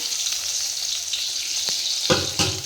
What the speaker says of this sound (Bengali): প্রথম ফুলটা তো ছেড়ে দিলাম, এখন ভাজতে দিয়েছি, দেখি এটা কেমন হয়।